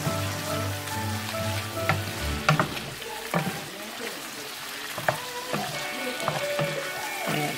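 Shrimp sizzle and crackle in a hot pan for creamy shrimp scampi, with a continuous frying hiss broken by scraping stirs and clatters of a utensil close by.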